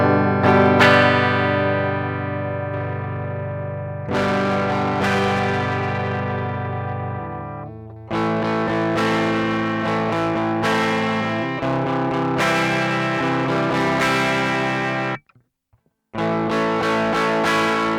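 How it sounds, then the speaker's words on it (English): Electric guitar run through an RFM guitar pedal v1 set to its lowest distortion level, sustained overdriven chords that ring out and change several times, loud and close, with a brief silent gap near the end. "Let's now turn on the distortion finally."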